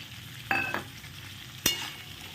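Cubed onions tipped into a pan of frying garlic and capsicum over a low flame, giving a quiet steady sizzle broken by two sharper clatters of stirring, with no voices.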